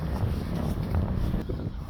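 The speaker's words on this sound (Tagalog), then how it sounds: "Lakas ang hangin dito." Strong, cold wind at the seaside rumbles and buffets against the microphone in low, continuous gusts, loud and close, with no clear talk.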